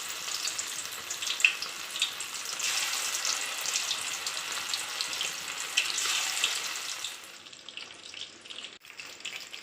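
Small nethili anchovies fry in hot oil with a steady, bright sizzle that fades slightly near the end, close and without voices.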